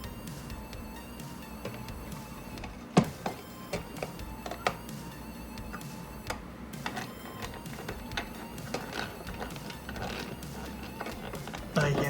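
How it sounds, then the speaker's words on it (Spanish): A small screw is driven into a plastic piece of a KITT Knight Rider model kit, giving quiet irregular ticking and clicking taps with a few sharper knocks, and a voice faintly present in the background. "Vamos a intentar meter el tornillo nuevamente."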